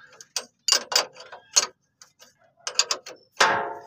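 Wrench tightening two fittings on a replacement steel tube connector, with a second 19 mm wrench holding the middle: close ratcheting clicks and metallic scrapes in short bursts with brief pauses, no talk.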